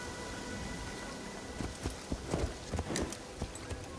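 A horse's hoofbeats in Assassin's Creed Shadows clip-clop in an irregular run of sharp knocks, starting about halfway through over a steady background hum.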